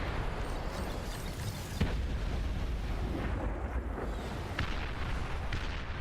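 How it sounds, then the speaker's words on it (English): A long-range plasma cannon fires in a video game, with a couple of sharp booming blasts standing out over a dense, continuous rumbling din of battle noise. "Wait, I heard a plasma cannon"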